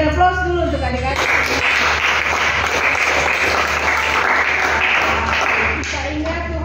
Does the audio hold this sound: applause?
yes